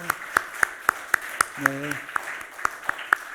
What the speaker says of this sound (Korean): 자리에 한번 일어나 주시고 박수로 환영하겠습니다